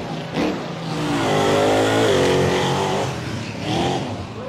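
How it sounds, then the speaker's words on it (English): A blown, alcohol-injected 572 big-block Ford engine in a Texas truck revs hard, its pitch climbing and swelling in a loud, continuous roar for several seconds before easing and rising again, with no talking. "This is a 572 blown and alcohol injected big block Ford motor."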